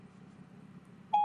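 A phone inside a car driving around downtown Rochester, Minnesota gives a sudden loud, steady electronic beep near the end, cutting through a low rumble of road and engine noise.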